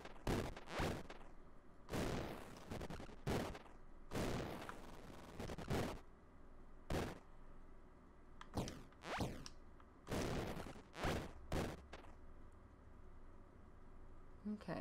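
Gunfire in the video game Desert Child, a series of sharp, loud synthetic shots fired in irregular bursts, some in quick pairs and clusters, separated by brief quieter gaps with faint game ambience underneath.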